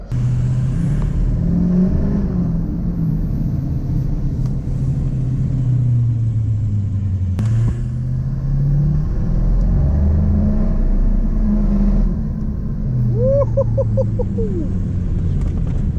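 A Chevy square body truck with a swapped diesel engine runs with a deep, steady rumble that rises and falls slightly, close by and fairly quiet.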